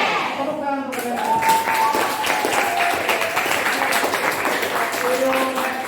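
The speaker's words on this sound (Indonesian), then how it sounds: "Tepuk tangan untuk mereka." A classroom audience at a school training session claps hands together, a dense, fairly steady patter of clapping that starts abruptly after a voice and continues under intermittent overlapping voices.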